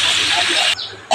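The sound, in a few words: water poured into hot frying spice paste, sizzling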